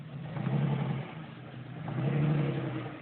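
A jeep engine revving up twice in quick succession, each surge rising to a loud mid-pitched roar before easing back, close by and without talk.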